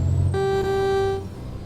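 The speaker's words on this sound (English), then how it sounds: "I didn't need to honk at them" A truck horn in American Truck Simulator gives one steady, loud honk lasting about a second over low engine rumble, then the engine carries on alone.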